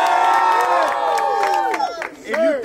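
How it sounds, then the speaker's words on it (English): A crowd at a street fight event in Atlanta yelling and cheering loudly together, overlapping shouting voices rising and falling, with a sharp surge of cheers near the end. "If you think Kareem won, make some noise."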